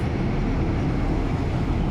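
A local diesel railcar, train 426, runs through the countryside between Surin and Chakkarat in August, a steady, loud, close rumble and rush of wheels and engine that holds without a break.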